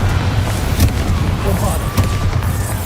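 Fiery Confringo spell cast in the video game Hogwarts Legacy, with sharp booming bursts and a crackling impact over a low rumbling background, several hits in quick succession.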